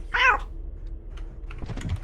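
A cat meows once in a modded co-op session of the video game Lethal Company, a short, clear mew near the start, followed by faint clicks and soft taps like keyboard typing.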